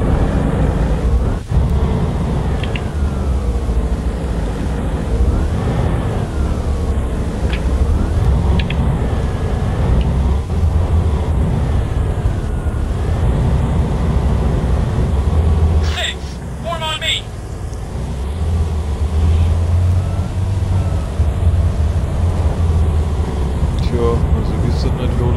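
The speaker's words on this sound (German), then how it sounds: "Ich schnappe ein Auto und fahr mal eine Runde langsam." A car is driven slowly in the military video game Arma 3, its low engine drone running continuously beneath near-constant speech, with a brief dip in the middle.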